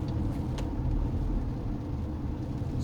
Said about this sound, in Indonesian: Banyaknya kereta. Banyaknya mobil tuh, lihat sebelah kanan tuh.